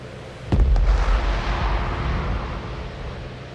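An FPV drone strike hits a tank in a combat zone, a sharp loud explosive crack followed by a long rumbling roar and debris wash that slowly fades, no talking.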